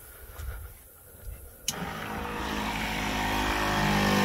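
A hiflow 4.5 GPM pump on a Fimco 65-gallon boomless UTV sprayer recirculating runs as a loud, steady broadband whir that kicks in after a click and builds, preceded by a few quiet knocks.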